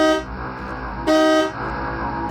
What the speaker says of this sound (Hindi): उस रात तो मैं गाड़ी के हॉर्न से जागा था